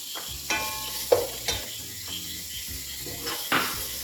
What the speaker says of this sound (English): it's the time to add onions, finely chopped onions